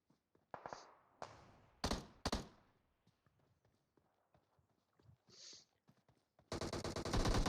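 Scattered gunshots in a video game scrim, a few sharp isolated cracks early on, then a loud rapid burst of automatic fire at the end, with quiet footsteps and movement between.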